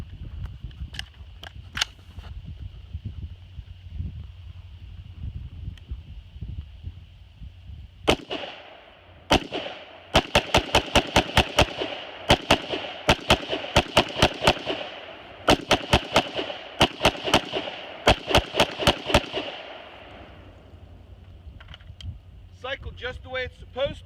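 An AR-15 rifle loaded from a 30-round Hexmag magazine fires sharp, close gunshots, a few isolated shots first, then rapid strings of rounds in bursts with brief pauses between groups.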